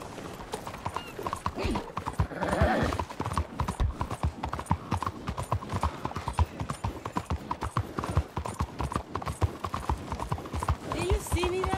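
Rhythmic clip-clop of horse hooves trotting steadily in Red Dead Redemption 2, close by, with a brief whinny and some voices talking over the hoofbeats.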